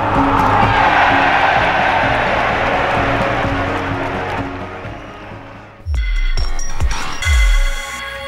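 A football crowd at Pride Park, Derby's stadium, cheers a goal with a loud, sustained roar that gradually fades before the sound cuts to other noises.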